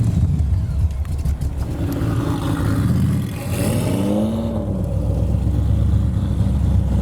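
A rat-rodded Ferrari Testarossa with a European sports exhaust, its engine running loud and close with a steady throaty drone that swells into a rev near the middle before settling back.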